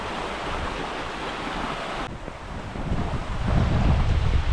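A small waterfall in the Glinščica river gorge rushes steadily, a broad continuous roar of falling water up close, with gusts of wind noise on the microphone and no talking.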